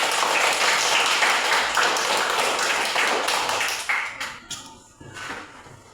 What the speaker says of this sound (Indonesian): Untuk itu mari kita memberi tepuk tangan sekali lagi.